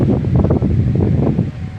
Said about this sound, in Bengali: এইদিকে হাওয়ার গতি বাড়ছে আস্তে আস্তে